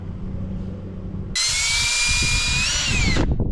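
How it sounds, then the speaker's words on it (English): A small drill bit whines loudly with a steady high pitch as it drills out caulking, starting abruptly after a quiet stretch and stopping near the end, close by. "he's just kind of cleaning it out with a smaller drill bit"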